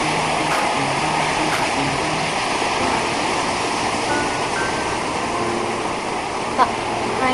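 Surf rolling onto Batu Karas beach in Pangandaran, West Java, at night. A loud, continuous wash of waves and wind fills the whole stretch, with only faint background voices.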